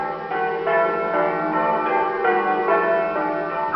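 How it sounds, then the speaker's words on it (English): Church bells at East Bergholt, Suffolk, ring in a rich overlapping sequence, successive strikes blending into a continuous resonant peal, moderately loud with no talking. "they can actually hear these bells"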